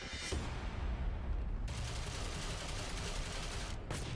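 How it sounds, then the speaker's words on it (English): A sniper rifle shot sounds in the PC shooter Ghost Recon Phantoms. A loud, noisy boom fills the whole clip, with a sharp crack just after the midpoint, under dense battle noise. "So here you can see a sniper shot me"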